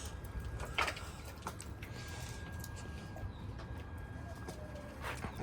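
Wild birds around a pigeon loft, with faint scattered chirps and soft calls over a low background hum, quiet and fairly distant, no talking.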